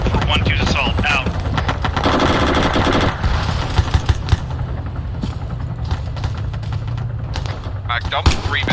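Rapid automatic gunfire as a full magazine is emptied in the military shooter Arma 3, dense crackling bursts close and loud throughout, with radio chatter and voices talking over the shots.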